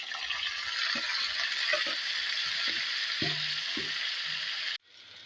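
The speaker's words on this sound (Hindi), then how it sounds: "इसी ऑयल में हम ना भिंडियाँ डाल देंगे। अब भिंडियाँ फ्राई कर लेंगे।" Okra sizzles and fries in hot oil in a pan, a steady loud crackling hiss with a few faint clinks of stirring, cutting off abruptly near the end.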